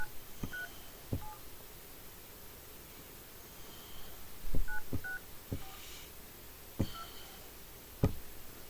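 Telephone keypad tones, a series of about ten short, clear beeps at uneven intervals, each with a light click, over faint background hiss.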